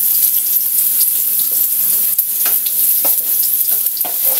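Garlic and onion sauté in leftover frying oil with a loud, bright, unbroken sizzle. Utensils scrape and stir at intervals close by.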